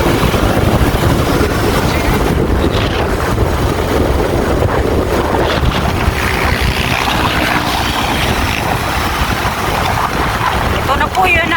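Strong outdoor wind gusts buffet the microphone continuously near a boat on open water in Pili, Camarines Sur, with a low rumbling roar throughout and voices speaking underneath.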